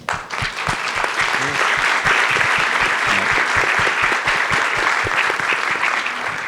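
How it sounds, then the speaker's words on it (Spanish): Sustained, loud audience applause fills an indoor lung cancer patient forum in Mexico City. It is steady, dense clapping from a seated crowd with no talking over it. "Les pido un aplauso para Pati."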